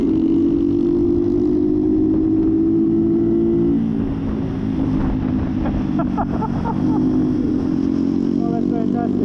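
Chris's motorcycle engine runs with a steady droning note that dips and shifts midway, with crackling pops as flames shoot from the exhaust, heard outdoors with some wind noise.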